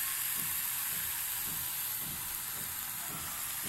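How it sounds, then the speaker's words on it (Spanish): An amberjack fillet sizzles steadily on a hot griddle greased with coconut oil, a bright, continuous frying hiss with soft crackles, close and alone without talk. "Y ya que esté caliente, vamos a ir poniendo nuestro filete."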